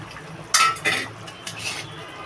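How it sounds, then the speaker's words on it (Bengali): Pieces of fried hilsa fish go into a pan of bottle gourd curry with two quick metallic clinks and a soft scrape of a utensil, close and brief, followed by quiet kitchen background. "আমি এবার ভাজা মাছটা দিয়ে দেবো"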